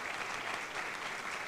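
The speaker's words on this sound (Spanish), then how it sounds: "Bueno, también un fuerte aplauso para ella." Audience applause at the grand final of the Mexicana Universal Jalisco beauty pageant, a dense steady wash of many hands clapping at even loudness throughout, with no voices over it.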